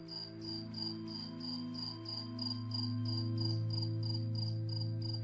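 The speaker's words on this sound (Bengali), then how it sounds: "বাইরে থেকে ভেসে আসছে একটা মিষ্টি ঝিঝি পোকার ডাক" Crickets chirp outdoors in a steady, pulsing chorus, faint and distant, with regular bursts of high trilling over a soft low background hum and no voices.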